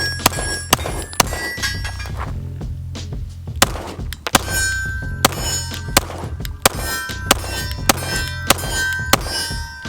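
A Polymer 80 pistol fitted with a new trigger is fired in a fast string of sharp, loud shots, with metallic clangs and rings from steel targets, about a dozen reports spread across the clip with short pauses.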